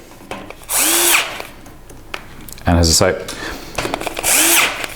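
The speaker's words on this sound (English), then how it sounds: "I put them in with the drill, and I go along after with the Allen key." A power drill whirs in two short bursts as it drives screws during a CNC machine build, with someone talking briefly in between.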